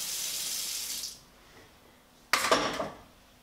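Dried peas are washed at a kitchen sink under a running tap. Water flows steadily for about a second and stops, then a sudden short burst of splashing and rattling follows, close and clear with no talking.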